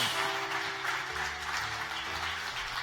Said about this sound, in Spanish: Se atreve a estar de pie y darle ese aplauso a Dios